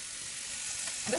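Chopped onions and shallots dropped into hot coconut oil with curry leaves for a duck curry, a steady broad hiss of frying, close and even, with a slight rise at the end.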